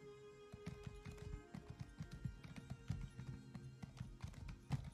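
Horse hooves clip-clop steadily in Elder Scrolls Online, a quick rhythmic run of taps at moderate level with no talk over them.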